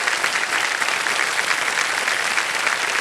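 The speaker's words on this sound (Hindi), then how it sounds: "तालियां बज जाए इनके लिए" A television game-show studio audience breaks into sustained applause, a dense, even wash of many hands clapping that stays steady and fairly loud from start to finish, with no voices over it.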